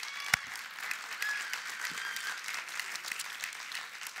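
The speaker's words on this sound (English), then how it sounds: "Give the Lord a good hand clap of praise." A church congregation claps in praise, a dense steady patter of many hands filling the room at moderate volume, with one sharp close clap near the start and no speech over it.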